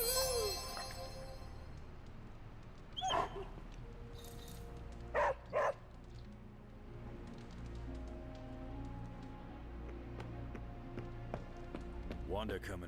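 A pet dog gives a few short, sharp barks and soft whimpers, spaced apart beneath steady background noise and a person talking.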